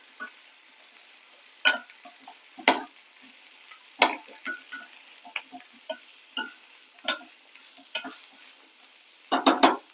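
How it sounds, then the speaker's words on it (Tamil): Potato podimas being stirred in a pan, a spoon scraping and tapping against the metal in irregular strokes over a faint sizzle, with no voices. "ஒரு 2 நிமிஷம் நல்லா மிக்ஸ் பண்ணிக்கோங்க."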